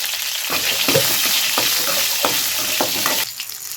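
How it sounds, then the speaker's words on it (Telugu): Green chillies fry in a pan for a peanut chutney, giving a steady close sizzle broken by regular scraping stirs, quieting abruptly near the end. "ఇప్పుడు పచ్చిమిరపకాయలు వేసినప్పుడు భద్రం కాలుతాయి."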